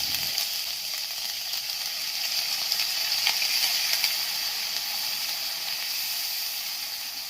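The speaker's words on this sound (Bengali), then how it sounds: "তার ভিতরে দিয়ে দেবো পেঁয়াজ বাটা। পেঁয়াজ বাটাটাকে একটু নেড়ে চেড়ে নেব।" Onion paste frying in hot oil with browned cumin seeds, a steady close sizzle and hiss with occasional stirring, continuous and fairly loud, no voices.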